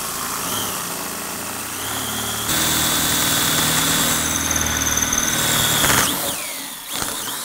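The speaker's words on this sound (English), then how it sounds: "then we take them new pilot holes, we drill them out to 3/8." A power drill bores pilot holes out to 3/8 inch while installing a Kmod Gen 3 suspension. The motor whines steadily and picks up to a louder, harsher pitch partway through before winding down, with no voices.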